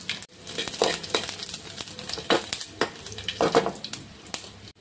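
Garlic and a dried red chilli fry in a hot pan with a steady, close sizzle, broken by a few sharper crackles and the clink of a spoon stirring against the metal.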